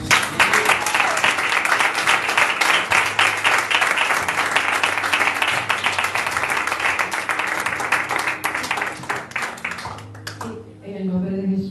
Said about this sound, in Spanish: Aplauso para Jesús.